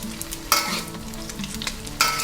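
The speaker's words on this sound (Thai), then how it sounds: "ให้เราตักน้ำมันขึ้นมา ลาดตรงกลางไข่แบบนี้นะคะ" A shrimp omelette fries in a pan with a continuous sizzle while hot oil is ladled over it, with sharper bursts of crackle and scraping each time the ladle dips. No one talks.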